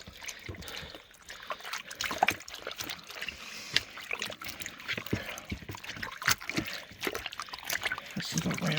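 Laundry gets rinsed by hand indoors in a van, with close sloshing, trickling and splashing water that comes and goes irregularly, and a voice talking over it at times.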